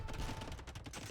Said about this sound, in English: Yo coming out with hand cannoneers